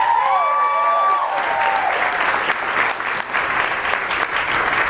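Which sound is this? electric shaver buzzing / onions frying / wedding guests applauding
wedding guests applauding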